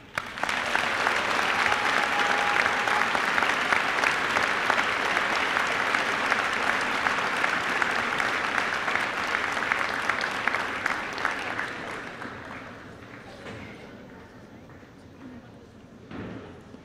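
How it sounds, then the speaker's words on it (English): Sustained applause from an audience at a high school awards ceremony honoring alumni, a loud steady roar of clapping that fades out after about twelve seconds into scattered claps and murmuring. "one more round of applause for our alumni honorees"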